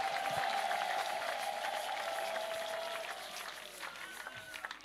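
Steady applause from a crowd, loud at first and gradually fading, with a sustained tone and scattered voices underneath.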